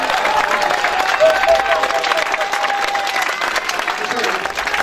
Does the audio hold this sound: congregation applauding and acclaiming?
yes